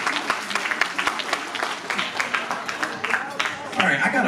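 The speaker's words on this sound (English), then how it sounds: "let's give a round of applause to our panelists" A school alumni panel audience claps steadily for a few seconds, a full round of applause that swells slightly toward the end.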